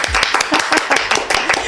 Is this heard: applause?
yes